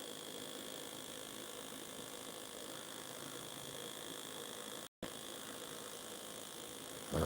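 A homemade pulse motor runs near 750 RPM as a steady, faint mechanical whir with fast ticking, continuous apart from one brief dropout.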